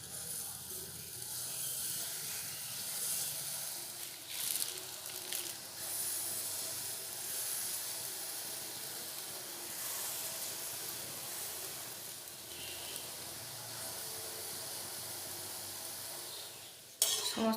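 Quiet, steady hiss and sizzle of moong dal jilipi frying in hot oil, with occasional soft stirring clatter and a brief louder knock near the end.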